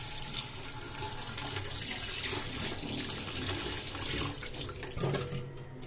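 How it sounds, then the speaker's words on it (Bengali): Tap water runs steadily into a sink while teasel gourds are rinsed clean for a mashed bhorta, a continuous close splashing stream that eases off near the end. "কাঁকরোলগুলোকে ভালো মতো পরিষ্কার করে ধুয়ে আমি এখানে পাতিলে দিয়েছি"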